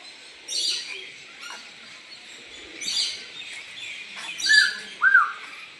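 Caged myna birds at the Mohera Zamindar house in Karatia, Tangail, give close, sharp chirps and whistled calls in scattered bursts with quiet gaps between them, the loudest calls coming near the end.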